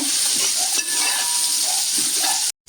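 Small red shallots frying in a pan for nadan kozhi varattiyath, a steady loud sizzle with soft stirring scrapes throughout, cutting out sharply near the end, no talk.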